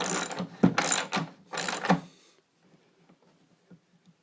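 A bolt on the pole spring bracket of a 1990 Kawasaki stand-up jet ski is tightened in three quick bursts of close, rapid ratcheting clicks, then falls to near silence.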